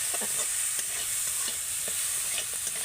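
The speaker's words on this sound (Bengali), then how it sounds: "এবার আমি ভালো করে একটু নেড়ে চেড়ে নেব" A spice mixture of chilli and coriander powder stirred in a pan, a constant soft sizzle with light scraping taps from the spoon, close and even throughout, no speech.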